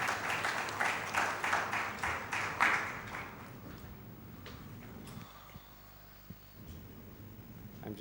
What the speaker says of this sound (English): Please give a big round of applause for Dr.